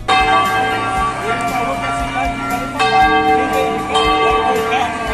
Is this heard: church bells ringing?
yes